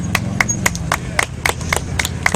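Sparse, evenly spaced claps from a few people at an outdoor Tea Party event on July 3, 2010, sharp and steady over a low background hum, with no voices.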